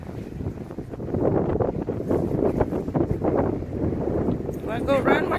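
Strong wind roars steadily against the microphone, a dense, loud rushing that continues under a person talking throughout.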